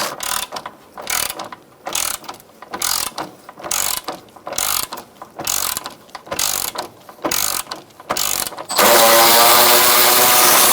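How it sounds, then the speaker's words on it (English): A hand ratchet fitted with a 10mm socket loosens the support bracket bolts of a 2012-2017 Hyundai Accent cooling fan assembly, clicking in a dozen quick bursts close by. A steadier louder noise takes over at the end. "Using a 10mm socket, we're going to take out these bolts for the support brackets."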